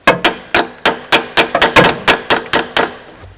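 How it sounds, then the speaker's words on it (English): Hammer blows drive an Allen wrench socket into place during thermostat work on a John Deere 624K loader, about a dozen sharp metallic strikes in a steady, slightly quickening rhythm, close and loud with no talk. "we're going to pound this down in there"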